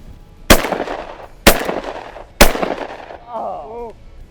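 Three loud shotgun blasts about a second apart while hunting mallards in Nebraska, followed by a brief burst of duck quacking.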